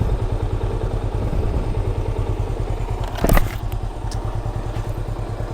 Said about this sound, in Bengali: বাইকটা এই সকালবেলায় বের হইলাম